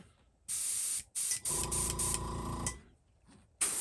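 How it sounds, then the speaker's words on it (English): An Iwata or Grex airbrush blows air in several short hissing bursts of varying length, close and fairly quiet, with brief pauses between them and no talking. "She blows air. So tell you what, see if she sprays."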